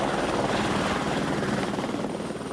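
A helicopter passes over São Paulo, heard as a steady, moderately distant rotor buzz and whir with no break throughout.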